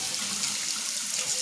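A tap runs steadily during a head and beard grooming routine at a sink, a continuous close hiss of flowing water with no talking.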